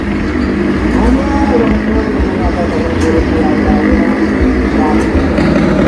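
A motorcycle circles the wall of death (tong setan) at the Sekaten night market in Solo, its engine a steady droning roar. Crowd noise and talk fill the background.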